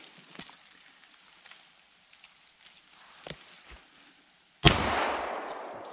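A single loud gunshot rings out while hunting from a side-by-side in the backwoods, a sharp blast with a lingering decay, after quiet outdoor rustling and faint footsteps.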